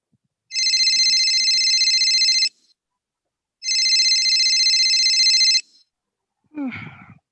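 A telephone rings in two long electronic bursts with a pause between, after a collect call placed from a payphone, followed by a brief voice sound at the end.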